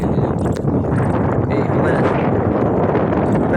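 Strong wind buffets the microphone outdoors, a loud continuous roaring rush with no pauses.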